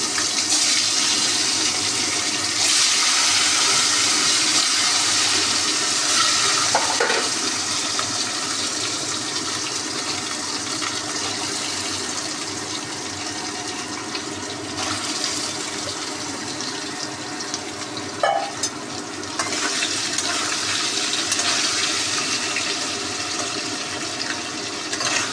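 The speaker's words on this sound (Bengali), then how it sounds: "এবার তেলটা এসে গেছে, হলুদটা পুড়ে যাবে, দিয়ে দিলাম আলুগুলো।" Potatoes frying in hot oil with turmeric give off a loud, steady, broadband hiss that runs unbroken for the whole stretch, with a couple of brief spikes in intensity and no voices.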